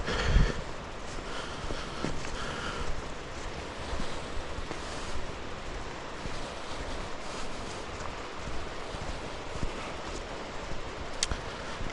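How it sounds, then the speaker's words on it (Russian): Soft, continuous rushing of water from a small cascade on the Botkin Trail near Yalta, Crimea, in January, fairly faint and distant, with light wind noise and a few small knocks. "Вон водопадик там шуршит."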